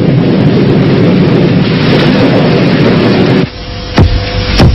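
Heavy rain pours loudly and steadily during a storm with a power blackout, then cuts to a quieter patch where a sharp thunder crack bursts through.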